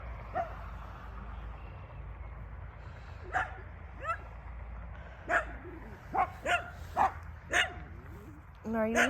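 Farm dogs bark in a string of short, sharp yips and woofs, sparse at first and then quicker toward the end, over a steady low background hum.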